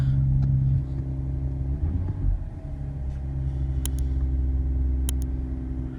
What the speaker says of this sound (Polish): Mogę teraz spokojnie odpalić samochód.